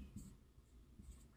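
Pen scratching across paper during a Class 10 arithmetic progression maths lesson, faint and close, with soft intermittent strokes and no talk over it.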